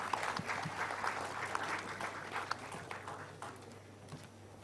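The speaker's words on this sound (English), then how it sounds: "Can we have a round of applause for Pankaja, ma'am?" Audience applause at a global food regulators summit, a steady wash of clapping from a conference hall crowd that gradually thins and fades toward the end.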